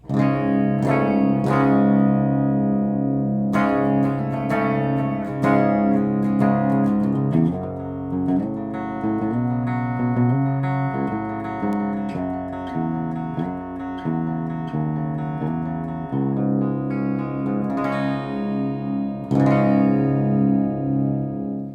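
A clean electric guitar plays through the power amp section of a Westminster Effects 2716 pedal, sustained chords and single notes ringing out steadily at full volume, with no voices.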